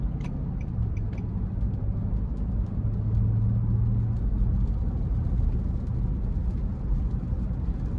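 A 2018 Nissan Armada Platinum SUV with a 5.6-liter V8 drones steadily while driving on wet roads, a continuous low rumble with road and tire noise heard from inside the cabin.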